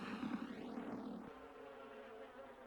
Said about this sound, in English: If the other bees want to know more, they make a special noise.